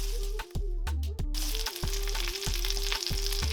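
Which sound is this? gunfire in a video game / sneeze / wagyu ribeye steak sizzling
wagyu ribeye steak sizzling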